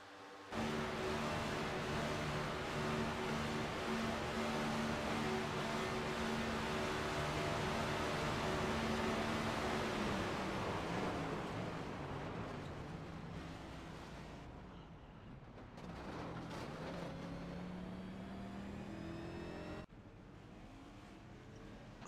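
Onboard engine of a NASCAR Next Gen stock car in the iRacing sim at Daytona, a loud steady drone with strong harmonic whine that dips and shifts pitch mid-run, with gear or throttle changes toward the end.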